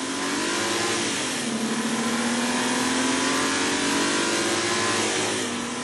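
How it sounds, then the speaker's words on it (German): A Mercedes C350T 4Matic estate and a BMW accelerating hard from 0 to 100 km/h, a loud close engine drone whose pitch climbs steadily, drops at a gear change around two seconds, then climbs again. "Die Beschleunigung von 0 auf 100 machen BMW und Mercedes unter sich aus."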